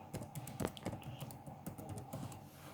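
A computer keyboard being typed on at close range, with quick irregular key clicks over a few seconds, fairly quiet and with no talking.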